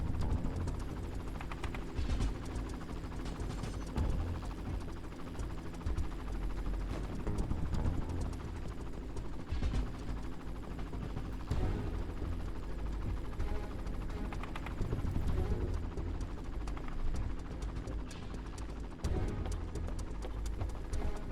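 Helicopter in the game Shadow Harvest: Phantom Ops, a low steady throbbing hum of rotors droning throughout, fairly faint and with no speech.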